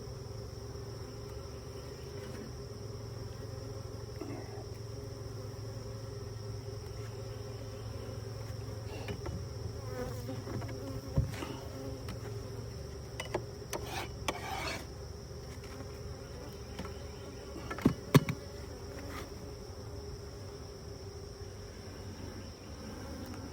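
Pure Russian honey bees hum softly and continuously around a newly installed hive, a faint steady drone with a few brief knocks and scrapes scattered through it.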